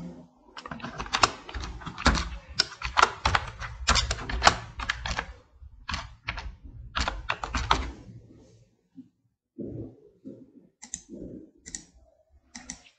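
Rapid clattering keystrokes on a computer keyboard come in dense bursts, then thin out into sparse, softer taps and clicks toward the end.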